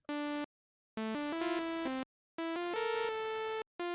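Sylenth synthesizer on its init preset plays short phrases of buzzy, bright sawtooth-like notes in three bursts separated by silences, overlapping pitches smearing together where notes clash, in a UK hardcore lead context.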